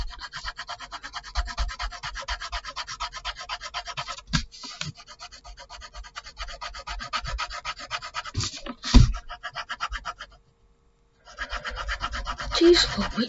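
Pencil drawing on plain printer paper, a steady close scratching and rubbing of graphite in quick repeated strokes, with brief pauses and a short silence near the end.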